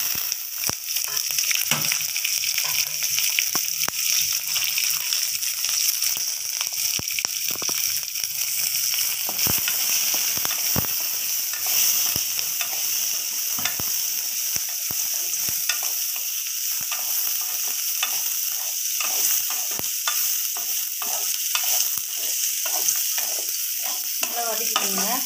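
Garlic, ginger, onion and coconut sautéing for mutton curry, a loud, crackling sizzle kept up throughout with rapid stirring scrapes and clatter close by.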